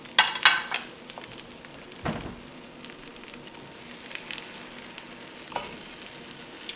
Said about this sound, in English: Those onions got a little more toasty than I prefer.